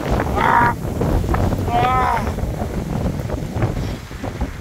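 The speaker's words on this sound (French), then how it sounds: "vous voyez c'est chiant le vent, franchement." Gusty wind buffets the microphone in a steady low roar, with brief faint tonal sounds drifting over it.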